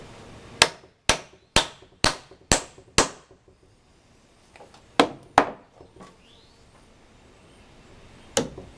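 A hammer drives nails into a wooden roof rafter, with six sharp strikes in a steady rhythm, a brief pause, then a few more scattered blows, all close and without talk.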